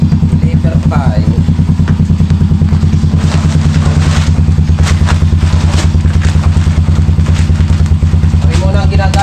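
A motorcycle engine runs steadily throughout at close range, a loud continuous low drone with a rapid pulsing beat, joined by faint clatter and scattered sharper noises over the top.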